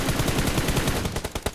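Video game gunfire, rapid automatic bursts firing in a fast steady rhythm, loud and close, with the shots growing sharper and more spaced toward the end.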